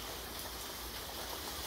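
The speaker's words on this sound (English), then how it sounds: "It is pouring rain outside right now." Heavy rain pours outside in a steady, even wash of hiss with no breaks, filling the whole moment at a constant moderate level.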